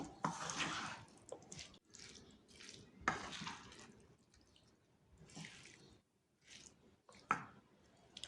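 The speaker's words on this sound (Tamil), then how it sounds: "இப்போ இதை நல்லா மிக்ஸ் பண்ணிடலாம்." Mango pickle mixed by hand with spices and a squeeze of lemon juice gives close, wet squelching and squishing in uneven bursts, with short pauses between handfuls and no talking.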